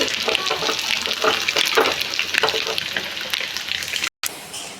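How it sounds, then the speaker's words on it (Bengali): Potato chops deep-fry in hot oil with a dense, continuous bubbling crackle at close range, broken by a brief gap near the end. "এটা প্রায় ভাজা হয়ে গিয়েছে, এবার আমি এটা তুলে নেব"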